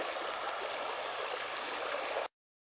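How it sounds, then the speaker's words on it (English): A creek flows around a small bend, a steady close rushing burble of water that fills the air without pause before cutting off abruptly. "Nice little bend in the creek right here."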